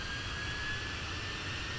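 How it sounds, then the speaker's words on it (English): Jet engines of a Fenix A320 airliner on landing approach in Microsoft Flight Simulator, a steady high whine over a low roar, continuous and even throughout. "Listen to those engines whining."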